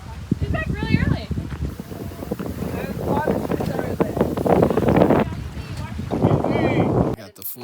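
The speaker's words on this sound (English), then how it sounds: "The wind is really bad." Strong wind buffets the microphone at a campsite, a constant rough roar and rumble for several seconds, with people talking and shouting over it.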